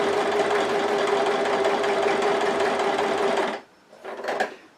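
A Gemini Stitch L100 sewing machine stitching fabric: loud, steady close whirring hum of rapid stitching for about three and a half seconds, then it stops and a brief softer burst follows.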